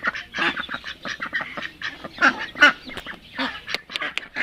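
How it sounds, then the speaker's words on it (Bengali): A flock of domestic ducks at a village home, quacking and honking in a loud, close, overlapping chorus of rapid calls that keeps going without pause, with no talking. "আর এখানে হাঁসের পাল।"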